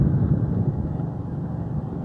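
A motorbike rides through a local neighbourhood, its engine a low, steady rumble under heavy wind buffeting, with no talking.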